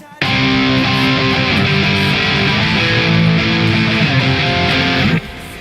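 Electric guitar played through a Tube Screamer overdrive pedal, loud sustained distorted chords ringing for about five seconds before cutting off abruptly, alone without talk.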